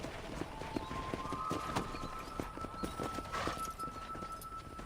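Horse hooves clip-clop at a steady walking rhythm in Red Dead Redemption, clear and close, with faint game ambience and a sustained tone running underneath.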